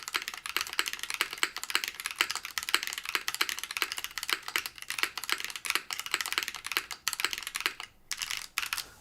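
Rapid typing on a KBD8x MK II keyboard with a brass plate and polycarbonate case, dense clicky keystrokes in a continuous close-up stream with a brief pause near the end.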